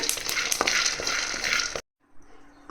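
Cumin seeds sizzling in hot oil for tomato chutney, a loud steady crackle with a few sharp pops and stirring scrapes, then sudden silence followed by a faint low sizzle.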